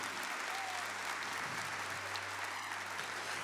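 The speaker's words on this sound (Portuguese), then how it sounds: "Aplauda o sacramento da confissão." A church congregation applauds in a brief, continuous burst of clapping, heard at a moderate distance and fairly quiet.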